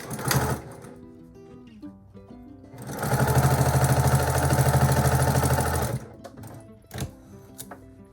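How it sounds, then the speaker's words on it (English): Sewing machine chain sewing quilt pieces: a loud, close, steady rapid stitching run of about three seconds, with shorter bursts and clicks before and after. "I would call it chain sewing."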